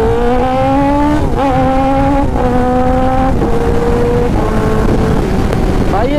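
A Kawasaki ZX-10R superbike racing, its engine and exhaust roaring continuously and loud, pitch climbing through gears with several shifts, close by and without pause.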